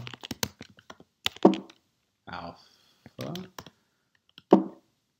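Clicks from a computer keyboard as Linux commands are typed, appearing as short bursts of keystrokes between stretches of speech from a nearby voice.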